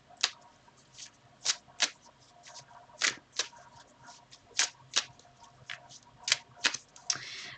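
Tarot cards shuffled by hand, a series of sharp, crisp riffling snaps in an irregular rhythm, close and fairly loud over a quiet background, with no talk.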